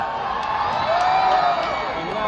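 An audience at a jewellery brand event in Dubai breaks into cheering and whooping, a steady crowd roar with a rising shout layered over it, fairly loud and continuous.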